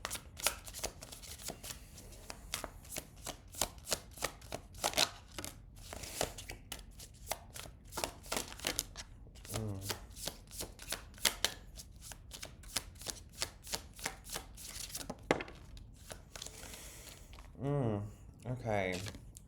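Tarot cards are shuffled and drawn in repeated quick riffling bursts, close and crisp, with someone speaking softly in between.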